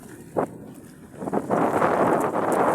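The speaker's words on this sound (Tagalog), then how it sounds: "maalon, mahangin," Gusty wind roars over choppy water, building to a steady loud rush after a brief quieter stretch, with the wash of waves beneath it.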